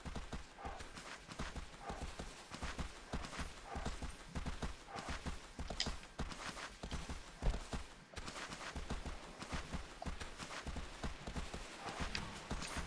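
A horse galloping in the video game Shadow of the Colossus, hooves pounding in a fast steady rhythm, close and continuous, with occasional snorts mixed in.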